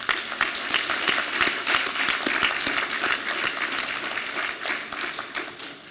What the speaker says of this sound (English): So let's give Professor Lynch an honorable applause